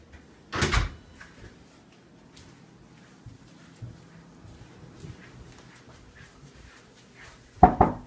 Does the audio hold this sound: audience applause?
no